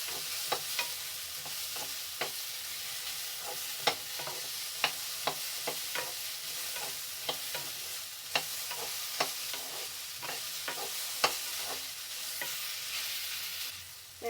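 Sliced okra fries in a pan for bendekai gojju with a steady hissing sizzle, while a spoon stirs it and taps the pan in scattered clicks. The sound is close and moderately quiet, and no one speaks.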